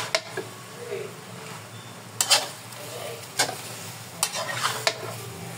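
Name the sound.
pork frying in oil in a pan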